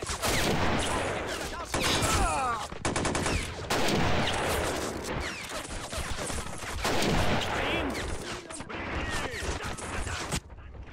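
Rapid bursts of gunfire and fusillades from the video game Army Men World at War, loud and continuous across the clip, with overlapping shots, brief pauses and occasional heavier blasts.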